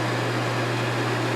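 A Trion air cleaner switched to its high setting gives a steady, loud broadband whoosh of fan-driven airflow with a constant low hum, running unbroken and close by with no talk.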